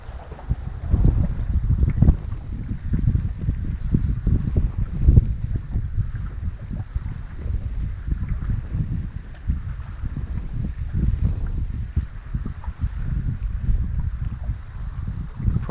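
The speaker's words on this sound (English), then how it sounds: "Probably hear it's quite windy here today." Strong southwest wind buffets the microphone at a fly fishing spot on open water, a steady low roar with gusting surges and faint lapping water underneath, no talk.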